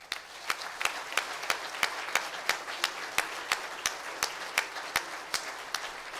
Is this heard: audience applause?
yes